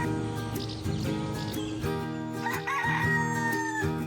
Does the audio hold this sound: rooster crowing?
yes